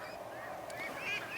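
A gosling held in someone's hands gives soft, thin honking peeps, faint and fairly close, over a steady background hiss.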